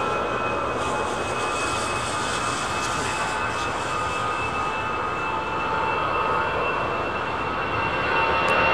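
A new-livery Air India jet airliner with Pratt & Whitney PW4000 engines at London Heathrow, giving a steady moderate engine roar that swells slightly toward the end, with no talking.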